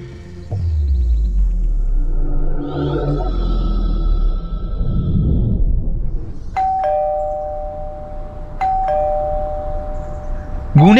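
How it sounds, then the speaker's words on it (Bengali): A doorbell chimes three times in a quiet indoor setting, each ring a clear electronic ding-dong with a lingering tail, following a low rumbling hum at the start. "গুনে গুনে ঠিক 3 বার কলিং বেল বাজাবার পর একটি ছেলে এসে দরজা খুলল"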